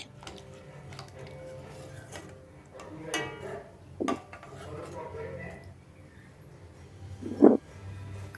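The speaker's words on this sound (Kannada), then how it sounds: "ಅದನ್ನು ಈ ಬಾಣಲಿಗೆ ಹಾಕಿ ಮಿಕ್ಸ್ ಮಾಡ್ಕೋಬೇಕು ಈರುಳ್ಳಿ ಜೊತೆ" Spatula scraping and clinking in a metal frying pan while onions and greens are mixed together, with scattered knocks and one louder clatter, under a voice talking.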